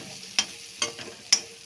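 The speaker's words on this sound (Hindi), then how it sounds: "सोयाबीन को पहले हम फ्राई कर लेंगे।" Soybeans frying in a pan under a soft background sizzle, broken by three sharp scraping clicks of a spoon against the pan, close up with no talking.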